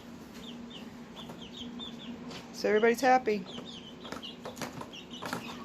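A few chickens cluck in a short burst midway, nearby and moderately loud, with a person speaking briefly and a steady low hum underneath.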